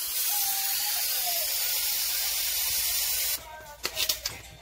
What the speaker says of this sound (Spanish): Voy a dejar un par de minutos a que salga el vapor para poder retirar la válvula de mi olla express